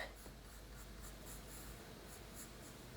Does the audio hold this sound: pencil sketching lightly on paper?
yes